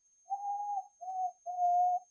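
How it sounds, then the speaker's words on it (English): Person whistling three clear, steady tones in a row: the first long, the second short, the third long, each separated by a brief gap, close and fairly loud with no talking. "man, that's a whistle, y'all."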